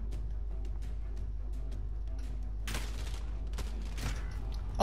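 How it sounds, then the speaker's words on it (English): Gunfire from the Call of Duty Modern Warfare gunfight mode crackles through the game mix, faint sporadic shots giving way to a burst of louder rapid reports in the second half. "Oh, he shot me through the wall?"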